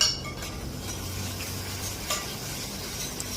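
Chopped onion frying in oil in a pan as the base for an eggplant curry, with a steady soft sizzle running through and a few light stirring scrapes and clinks of a utensil, no talking.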